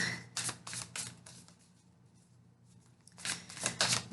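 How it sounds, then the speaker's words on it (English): Cards are shuffled in quick riffling bursts, a short pause, then another rapid shuffle close by in a quiet room. "let me shuffle"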